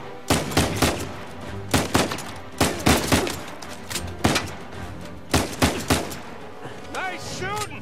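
Gunfire in Uncharted 4, bursts of loud close shots in short rapid clusters repeating across the span, with a whistling ricochet-like sweep near the end.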